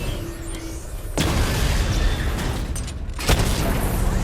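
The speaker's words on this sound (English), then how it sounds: "Destroy targets to charge up weapon energy and activate missile barrage." Missile barrage explosions in the video game Batman Arkham Knight: a dense, continuous rumbling roar of blasts with two sharp booming impacts standing out, loud and full throughout.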